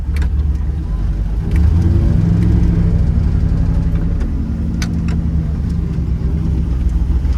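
A dump truck's heavy engine rumbles loudly and steadily nearby, running rich on a cold start and building turbo boost, its low drone rising and shifting slightly, with faint clicks on top.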